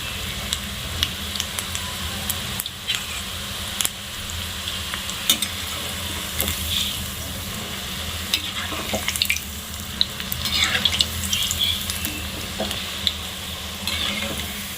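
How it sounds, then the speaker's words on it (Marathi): Colocasia leaf fritters (aluchi bhaji) fry over medium gas in hot oil, giving a continuous bubbling sizzle dotted with frequent small crackles and pops for the whole stretch. "आणि हे आपण मीडियम गॅसवरच फ्राय करणार आहोत भजी।"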